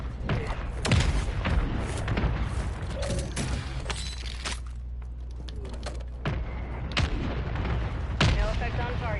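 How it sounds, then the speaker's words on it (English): Mortar strike explosions in the battle royale video game Warzone: several sharp booming blasts scattered through the clip amid mechanical clatter and steady game noise, with voices talking over them. "Mortar strike inbound now."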